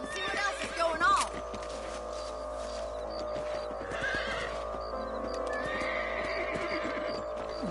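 A horse in the Western video game Red Dead Redemption whinnies loudly near the start, then hooves clop steadily beneath quiet ambient game sounds, with a voice talking over parts of it.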